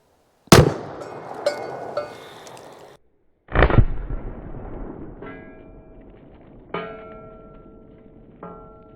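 Two loud, sharp reports from a North American Arms Mini-Master mini revolver boom out a few seconds apart, each trailing off into echo, followed by fainter pops and rings.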